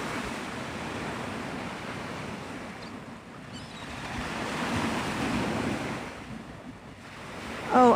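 Ocean surf rolls in steadily at Navarre Beach, Florida, on a stormy sunrise, a continuous wash of waves mixed with gusting wind and microphone buffeting, swelling and easing with no voices.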